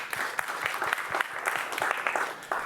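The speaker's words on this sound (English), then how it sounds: "Let's give him a round of applause," Audience applause for a speaker at PyLondinium, a Python conference, steady clapping from a room of people filling the whole stretch at moderate level with no voices over it.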